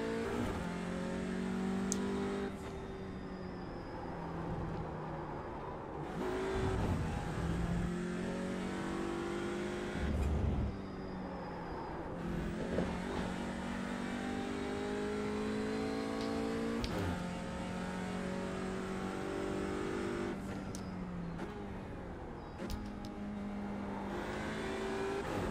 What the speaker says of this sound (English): A lot of people say that they don't really like the car sounds on the touring car cars.